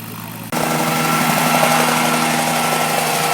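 A helicopter engine for a stunt starts up abruptly and runs loud and steady, a dense whining roar with a constant low tone, after a quieter moment of background hum.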